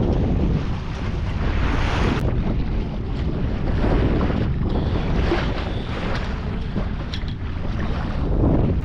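A private sailboat moves over the sea, with loud continuous wind buffeting and rushing water and waves all around, steady and close throughout.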